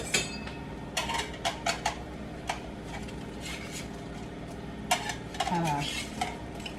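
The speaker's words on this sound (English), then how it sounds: "I'm going to give it a little stir" A utensil stirs homemade French fries in a pan as they cook, with soft scraping, intermittent metallic clinks and a faint sizzle, heard closely and without talk.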